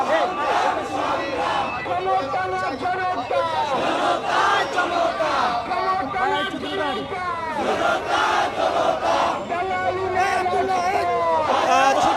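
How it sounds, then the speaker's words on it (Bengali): A protest crowd at Shahbag in Dhaka chants slogans in rhythmic call and response, a leader's voice answered by many voices together, loud and sustained over crowd noise throughout. "স্লোগান দিচ্ছেন ইনকলাব মঞ্চের সদস্য সচিব আব্দুল্লাহ জাবের, তার সঙ্গে কণ্ঠ মেলাচ্ছেন এখানে অংশগ্রহণ করা সর্বস্তরের মানুষ"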